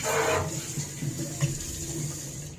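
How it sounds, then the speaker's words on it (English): Water streams from a pull-out kitchen sink tap in a renovated Singapore home. A strong initial gush settles into a steady, close running flow with a few light splashes. "You can even switch the different type of water flow."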